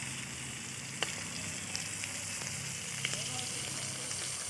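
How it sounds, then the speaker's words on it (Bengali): Fish frying in a small amount of oil in a village kitchen, with a steady broadband sizzle and a few sharp crackles and pops at moderate loudness, no talking. "বন্ধুরা কম তেলে মাছ ভাজা, বন্ধুরা কীভাবে ভাজি দেখতে থাকুন।"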